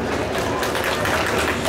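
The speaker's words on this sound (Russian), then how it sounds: "Ваши аплодисменты Андрею Крицкому" A brief stretch of dense, steady audience applause for Andrei Kritsky fills the hall at the final of the 2020 armored vehicle masters competition in Ostrogozhsk.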